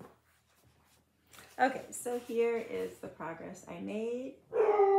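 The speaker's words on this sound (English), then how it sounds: "Excuse my dogs." Pet dogs bark and yip indoors in a home during a cross-stitch session, several short sharp barks and whimpers overlapping with a person talking nearby.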